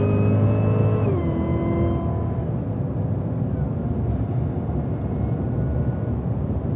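Cadillac CTS-V cars on a race track: a near engine drone drops in pitch as it eases off, leaving a steady rumble and whir of cars rolling past, with no talk.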